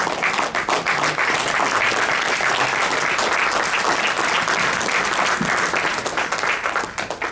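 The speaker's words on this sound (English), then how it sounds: "The applause should not stop, it should just continue, please." Sustained, dense audience applause fills a community talent event hall, steady and loud throughout with no break, fading only slightly at the very end.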